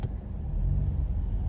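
Heavy road traffic gives a continuous low rumble of car engines, steady and fairly loud, with no voices.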